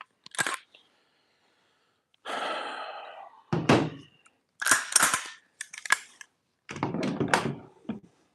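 Airsoft gun firing from a Guarder 35-round MWS magazine, a handful of sharp, close snapping shots spaced irregularly with quiet gaps between, mixed with mechanical clacks.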